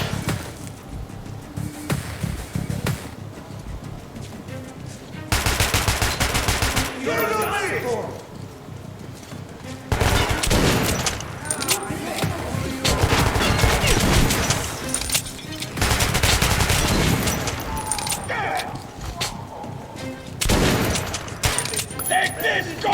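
Gunfire in Metro: Last Light Redux, including a silenced pistol, crackles in dense bursts and sharp repeated shots through most of the stretch, loud and busy, with a voice speaking over parts of it.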